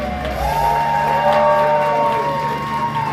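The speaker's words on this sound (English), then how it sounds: "give yourself a big round of applause for coming out tonight" A comedy club audience cheers and whoops loudly and steadily, a crowd roar with a sustained shouted whoop riding over it for the whole stretch.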